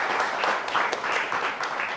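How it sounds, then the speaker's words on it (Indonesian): Brief burst of studio audience applause on an Indonesian television talk show, dense and continuous at a moderate level. "Tepuk tangan boleh buat BHS."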